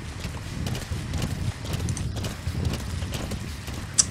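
Horse hooves clip-clop at a steady riding pace in Metal Gear Solid V, a rhythmic run of close, fairly loud thuds and clacks that carries on without pause, with a sharp click near the end.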